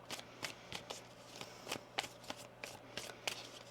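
Tarot cards are shuffled close up and quietly in a series of soft, crisp riffling bursts, about a dozen quick rustles at an irregular rhythm over a faint background hum.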